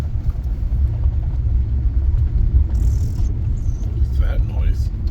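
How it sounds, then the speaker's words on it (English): A big truck out of sight near a wooded research area makes a loud, steady, low roaring hum that rumbles without a break for the whole stretch. "Oh, I hear this loud roarish hum noise. Sounds like a big truck."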